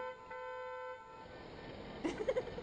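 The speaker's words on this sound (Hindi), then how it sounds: "पीछे से किसी ने रास्ता लेने के लिए हॉर्न बजाने की जसारत की है" A sustained car horn blares steadily in traffic for about a second, fairly clear against a low background, then fades as a brief burst of other noise follows.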